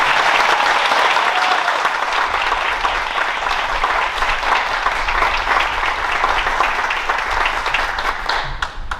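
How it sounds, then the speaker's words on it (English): An audience at a high school honor graduates' evening gives a big, continuous round of applause, loud and dense clapping that holds steady before tapering at the end. "if we can give them another big round of applause"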